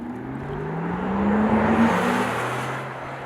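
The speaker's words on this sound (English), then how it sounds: "the Porsche electric sport sound that makes the car sound like you're driving a spaceship" A 2022 Porsche Taycan's electric sport sound plays while driving, a smooth synthetic whirring hum that swells in pitch and loudness at mid-clip, then eases off, heard alone without talk.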